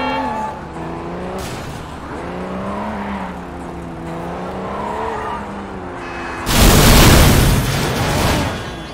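A car engine drones and shifts pitch in Sleeping Dogs, then a loud crashing burst of impacts and debris erupts as the car smashes through objects, fading slowly as the motor continues.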